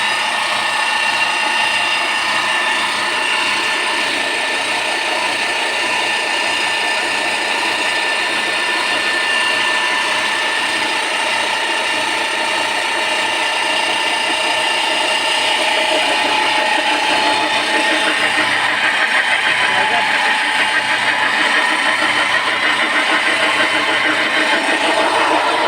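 A pelletizer machine runs continuously at close range with a steady mechanical whir and a low pulsing hum throughout, with no talking.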